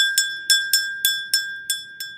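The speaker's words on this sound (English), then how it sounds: "that I ring this bell, right? This bell has been in my family for generations." Old family heirloom hand bell rung in seven bright, evenly spaced strikes, each clear metallic tone ringing briefly before the next, close and alone.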